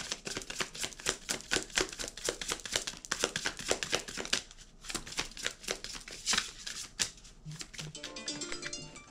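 Tarot deck shuffled by hand in a dense run of quick riffling card flicks, close and crisp, with a few soft taps and a card set down near the end.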